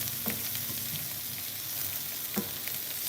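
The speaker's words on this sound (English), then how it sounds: "So the sausages are sausaging over here, and the onions looking good." Sausages and onions frying in a pan for a German meal, with a steady low sizzle and occasional soft pops and scrapes, no talking.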